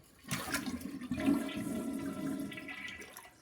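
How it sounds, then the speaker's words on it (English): A toilet flushed to empty its tank, a rushing gurgle of draining water that starts abruptly and fades after about three seconds, close and fairly quiet. "we want to get all the water out of the tank if we can"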